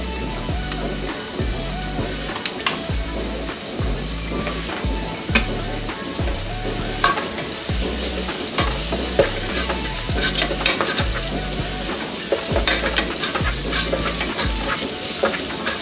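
Ginger garlic paste sizzling and frying in a pan with onions while a spoon stirs it in steady, repeated scraping strokes, close and continuous with no talking.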